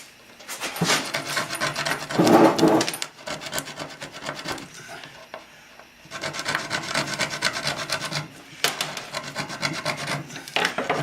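Cane stalk being sawn through at a marked length, a steady rasping back-and-forth cutting with a louder burst early on, pausing briefly midway before resuming in close, dry strokes.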